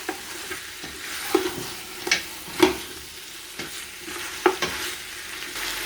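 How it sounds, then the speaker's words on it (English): Mutton pieces stirred and fried in a pot for spinach-and-mutton curry, with repeated scraping clinks of a spoon at irregular intervals over a soft, steady background sizzle, close and alone without talk. "Keep stirring occasionally. My meat almost changed the color. You can fry it a little bit."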